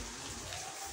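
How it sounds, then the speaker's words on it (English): Rain falling outside, a steady, soft, even hiss of drops with no breaks, faint and continuous throughout. "I think you can even hear how it's raining outside"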